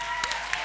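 Studio audience applause at a live talk-show taping, a steady wash of clapping with a few sharper individual claps standing out close by.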